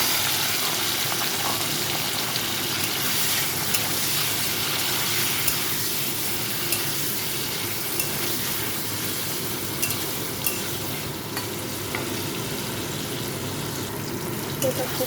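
Paneer cubes fry in a pan of ghee with a little salt, giving a continuous dense sizzle throughout, with faint scraping and stirring underneath and no clear speech.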